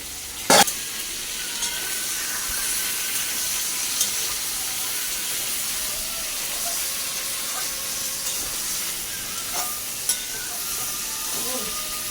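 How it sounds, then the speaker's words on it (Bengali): Pumpkin pieces fry in a pan with turmeric and salt, giving a steady soft sizzle and hiss, with a sharp clatter near the start and a few light utensil knocks later. "তারপরে গিয়ে এই কুমড়োটা এটাকে ভাজবো"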